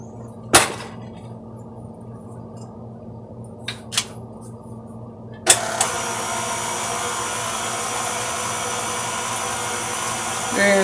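A stand mixer with a paddle works white chocolate macadamia nut cookie dough. A few sharp clicks and knocks come first, then the motor starts with a steady, close whirring drone that holds to the end.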